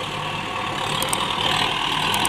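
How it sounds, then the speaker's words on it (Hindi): A Mahindra 415 DI tractor hauls a fully loaded trolley up a slope with a steady, heavy diesel drone. The engine sound is close and continuous, with no talk over it. "बड़े आराम से निकाल लिया महिंद्रा 415 डी आई।"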